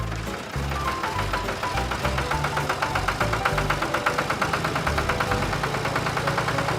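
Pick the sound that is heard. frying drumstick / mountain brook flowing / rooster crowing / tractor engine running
tractor engine running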